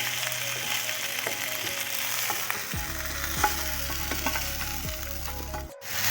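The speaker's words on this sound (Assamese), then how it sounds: "চিকেনৰ টুকুৰাবোৰ ভাজি হৈ গৈছে, ৰঙা হৈছে" Chicken tikka pieces frying in a little oil in a kadai, a steady close sizzle with occasional scraping and stirring, a low hum underneath, no voices.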